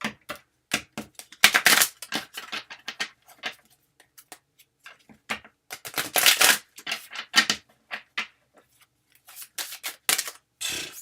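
Tarot cards being shuffled by hand in a quiet room, with bursts of crisp riffling and slapping clicks separated by short pauses, close and fairly loud, with no talking.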